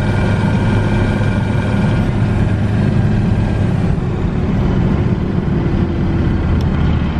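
Diesel truck engine treated with Seafoam runs steadily throughout, a loud, continuous low droning rumble with even idle-like texture and no voices.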